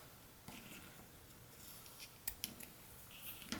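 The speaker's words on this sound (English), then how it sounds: "so then I'm going to just trim off the ends" Scissors snip through yarn ends while a yarn bird ornament is being finished, giving a few quick, light cuts in a quiet room, with crisp clicks clustered near the end.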